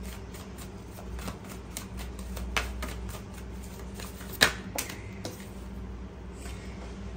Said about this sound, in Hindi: चलिए पहले मैं एक कार्ड और लेती हूँ।